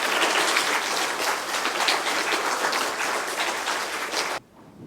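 Audience applauding prize-winning Grade 4 learners at a school prize-giving ceremony, a dense, steady round of many hands clapping that stops abruptly near the end, leaving a quiet room.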